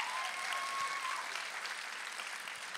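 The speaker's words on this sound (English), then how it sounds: "Come on, West Side, clap with us right now." Church congregation applauding together, a steady wash of many hands clapping at a moderate distance, fairly quiet and unbroken throughout.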